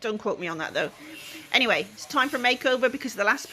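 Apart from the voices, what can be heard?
No everyday noises stand out.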